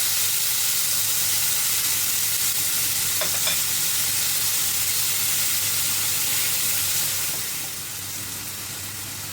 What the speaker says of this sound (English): In the same pan, I sauté the onions until soft. Then I add tomatoes and garlic.